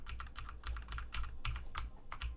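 Rapid typing on a computer keyboard, a steady run of close, crisp key clicks in uneven bursts with no voices.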